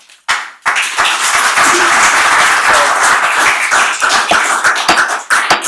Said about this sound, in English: I'm going to ask that you all hold your applause